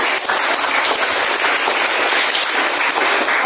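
Applause in a classroom session, a dense, steady patter of many hands clapping together, continuous and fairly loud throughout with no speech.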